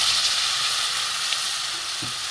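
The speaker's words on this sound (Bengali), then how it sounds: "লোটে মাছ ভাজা একসাথে মশলা আলু সব দিয়ে একসাথে কষিয়ে নেবো" Steady, loud sizzling fills the pan as Bombay duck (lote fish) fries with spices and potato for a spicy chorchori, a close, continuous hiss with no talk.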